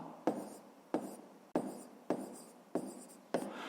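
A pen writes on paper in six short, evenly spaced scratching strokes, each starting with a quick tap and fading, quiet and close with no talking.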